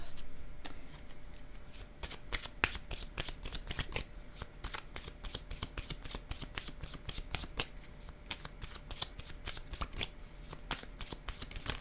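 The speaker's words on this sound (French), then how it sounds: "Je vais déposer une autre carte ici." Tarot cards shuffled and set down in a rapid, steady run of crisp riffling flicks and soft slaps, close and fairly quiet, with no talking.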